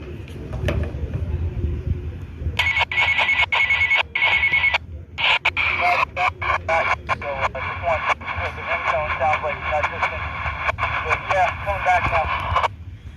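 Ringtone bursts and beeping patterns come through a noisy FRS/GMRS channel on a Midland XT 511 radio, pulsing in an irregular, Morse-like rhythm over hiss and static.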